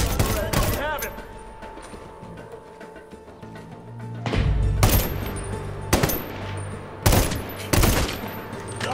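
Gunfire in the shooter game Medal of Honor: Warfighter, sharp bursts and single cracks spaced across the scene with thuds and rumble between, loud and close.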